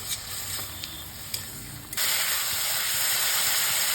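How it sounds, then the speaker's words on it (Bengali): Spices, turmeric, salt and green chillies cooking in a little water in a pan, giving a steady steamy hiss that jumps louder halfway through and then holds, with a few faint clinks early on. "ভালো করে সাঁতলে নিয়ে জল শুকিয়ে এলে"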